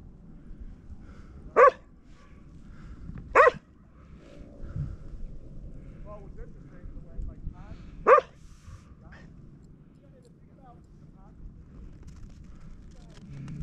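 Three sharp dog barks ring out, spaced apart, over a steady outdoor rumble with faint voices in the background, at Gillson Dog Beach on Lake Michigan, Illinois.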